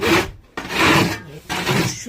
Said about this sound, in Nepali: अब सुली बढार्नुपर्छ